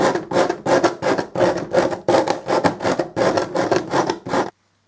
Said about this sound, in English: just clean up the edges, bit of sandpaper